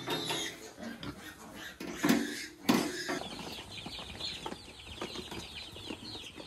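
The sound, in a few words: chicks and chickens on backyard farm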